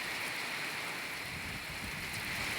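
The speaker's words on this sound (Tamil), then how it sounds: "அற்புதமாக பெய்து கொண்டிருக்கிறது." Summer rain falls at Annamalai in a steady, fairly faint wash of hiss and patter, continuous and even with no voices over it.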